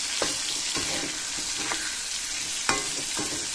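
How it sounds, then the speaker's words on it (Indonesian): Tomatoes and tempeh frying in a pan, a steady sizzle with occasional scraping stirs of a utensil, close and moderately quiet, no talking. "Tomate goreng karo tempe sing iki."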